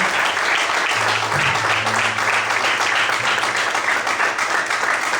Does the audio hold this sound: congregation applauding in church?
yes